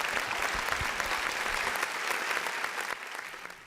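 A studio audience on a televised quiz show applauds a team, a dense, sustained round of clapping that holds steady and thins slightly near the end.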